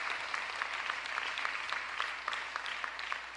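A crowd at Philadelphia's State of the City address applauds two U.S. senators with continuous, fairly distant clapping, individual claps standing out within the steady wash.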